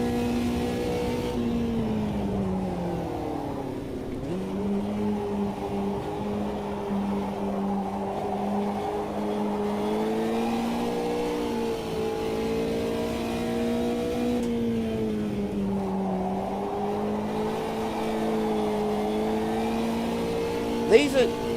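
Slow, heavy race cars in the sim racing game Automobilista 2 during an online race: a steady engine drone that climbs and dips through gear changes, heard continuously with a voice speaking faintly over it.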